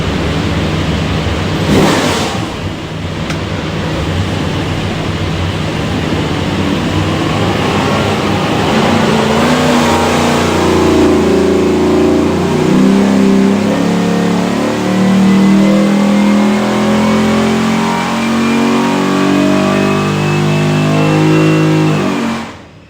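A 600-horsepower 429ci all-aluminum LS V8 with a FAST intake manifold and Holley Terminator X fuel management, built for a 1955 Bel Air, makes a dyno pull, climbing steadily in pitch as it revs hard and loud before cutting off abruptly.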